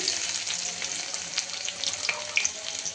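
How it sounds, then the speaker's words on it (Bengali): Chopped onion and garlic frying in hot oil, a steady close sizzle with faint crackles and light scraping, no voices. "তেলটা গরম হয়ে গেছে। এখন আমি এখানে দিয়ে দিব পেঁয়াজ কুচি, রসুন কুচি।"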